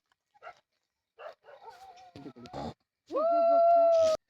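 A dog gives a few short yelps and barks, ending in a long, high whining howl, close and fairly loud in a quiet room.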